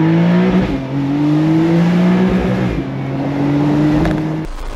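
A Porsche 911 Carrera S Cabriolet (992) engine running close by, a loud steady idle-to-rev drone with rising and falling engine notes across the clip before cutting off abruptly at the end.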